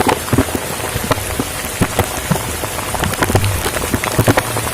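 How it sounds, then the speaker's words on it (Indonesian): Heavy rain pours down at an outdoor fishing spot, a dense, loud hiss of drops with many close patters and splashes, steady throughout with no voices. "udah hujan deras ini"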